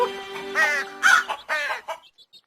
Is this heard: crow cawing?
yes